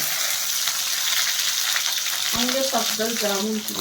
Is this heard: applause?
no